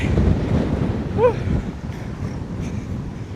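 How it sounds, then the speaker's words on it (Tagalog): Gusty wind buffeting the microphone with a low rumbling roar, plus a brief high chirp in the middle. "Lakas ng hangin."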